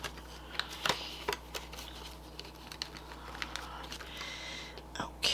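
Cash bills being counted into an envelope: soft papery flicks, rustles and crinkles come in a loose, uneven rhythm at close range in a quiet room.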